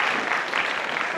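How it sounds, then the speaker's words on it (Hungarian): Audience at an anime convention roundtable claps in a brief, even burst of applause, dense and moderately close throughout. "Neki is egy hatalmas tapsot"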